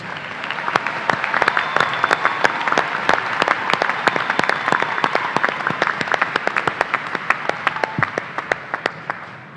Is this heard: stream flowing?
no